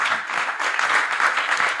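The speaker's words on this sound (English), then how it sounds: "A warm round of applause and appreciation to them" Audience applause at a counter-corruption summit, a dense, continuous wash of clapping at a steady, fairly loud level throughout the short stretch.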